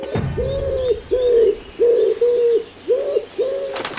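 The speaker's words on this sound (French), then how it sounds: "Des pigeons." A pigeon coos close by, a run of about six soft, low, rounded calls in a steady rhythm, with faint chirps in the background.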